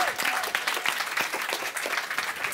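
An audience claps for a director and film stars arriving on stage at a filmmakers event in an Apple Store in London, a dense, steady round of applause with no talking.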